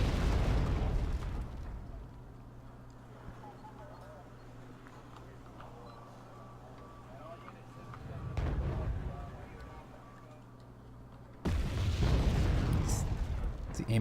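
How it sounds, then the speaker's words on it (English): Mortar explosions in a military strategy game, a few deep booming blasts, one at the start, a softer one midway and a loud one near the end, over a low steady rumble. "Oh, mortars are working over something."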